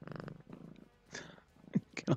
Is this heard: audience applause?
no